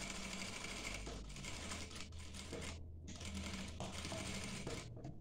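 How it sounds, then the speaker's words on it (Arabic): A sewing machine stitches a seam on a dishdasha, running steadily and loud for several seconds with two short pauses, and no talking. "نخيط الجهة الثانية نفس هاي الجهة"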